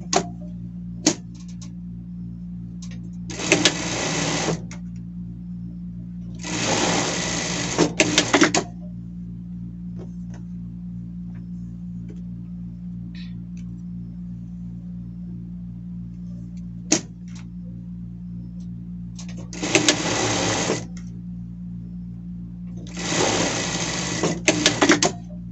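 Sewing machine stitching the hems of denim shirt sleeves, four short bursts of rapid whirring stitching with quiet gaps between them, close up over a steady low hum.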